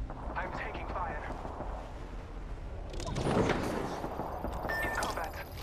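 Gunfire in a video game, mostly a rumbling wash of distant shots at first, then a louder flurry of bursts and impacts in the second half, with voices speaking over the fighting.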